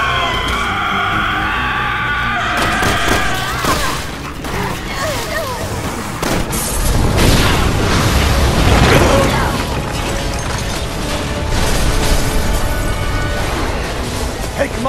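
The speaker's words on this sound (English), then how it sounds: "Someone shoot the gas! We can blow these things to kingdom come!" A gas explosion in the video game Resident Evil 6 erupts amid loud chaotic action: booming blasts, crashes and rumbling debris, with voices shouting over the noise and music swelling underneath.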